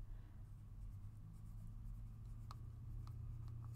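Graphite pencil writing on a paper journal page: faint, soft scratching strokes come in short bursts over a steady low hum.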